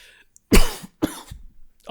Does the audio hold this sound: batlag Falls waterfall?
no